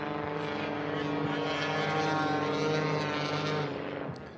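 A Carbon Cub STOL aircraft with an O-340 engine running nitrous oxide drones steadily at a STOL drag race, a loud, even propeller hum that fades slightly at the end.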